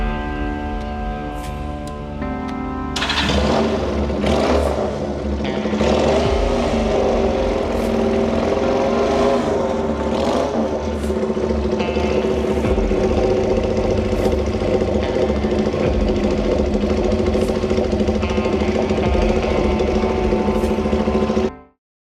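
A two-cylinder Sanex QJ 250 motorcycle with a shark-fin style exhaust runs loud and close. Its engine drones steadily for about twenty seconds, with a few sharp revs near the start, and no voices are heard.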